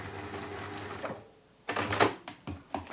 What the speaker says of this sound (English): So we're just top stitching this in place.